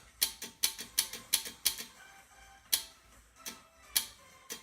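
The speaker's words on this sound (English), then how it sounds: "You can hear the clicking there, that's the solenoid opening up." A series of sharp mechanical clicks from a Hyundai Veloster Turbo bi-xenon projector headlight solenoid opening, close and fairly loud, in an uneven quick rhythm with short pauses between bursts.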